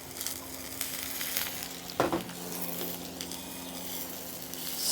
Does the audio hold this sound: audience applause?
no